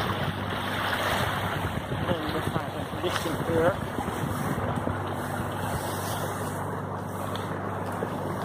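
Wind and water rush steadily around a moving boat heading to Urk, a constant broadband wash with a person speaking briefly over it from the bow.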